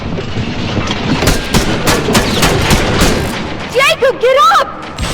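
Gunfire in Terminator Resistance rattles in rapid, heavy bursts over a rumbling battle din, loud and close, with people shouting near the end.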